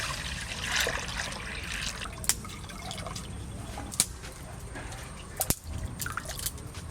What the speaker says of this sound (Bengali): ওই যে খারকোল পাতা সেদ্ধ করবো একটু জল দিয়ে দিচ্ছি